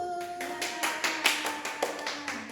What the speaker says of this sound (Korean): 함께 박수!